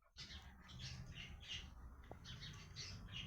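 A magpie calls outdoors in a run of repeated harsh squawks at a steady rhythm, faint and some distance away, with no voices over it.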